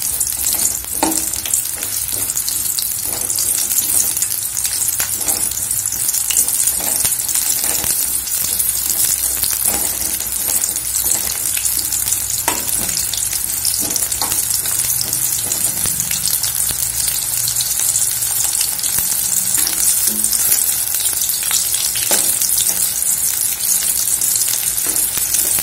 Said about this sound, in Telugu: చూడండి కాకరకాయ ముక్కలు ఇలా వేగుతున్నాయి